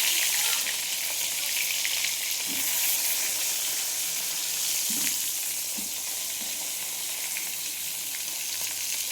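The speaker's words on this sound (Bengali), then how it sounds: "তেল গরম আছে, আমি বেগুন দিয়ে দিচ্ছি।" Salted, turmeric-coated eggplant slices frying in hot oil in a home kitchen, a continuous loud sizzle and crackle that stays steady throughout.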